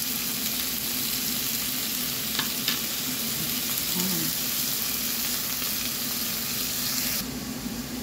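Shrimp sautéing in a pan for a Filipino ginisang hipon dish, a steady, close sizzle and hiss throughout with faint stirring clinks.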